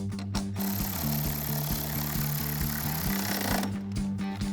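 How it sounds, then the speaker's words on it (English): A power ratchet or driver runs a 10mm socket to tighten the headlight bolts on a 2018–2023 Mustang GT, a rapid, loud mechanical buzzing that runs steadily for several seconds up close, with no talking. "take a 10mm socket to tighten down the first two"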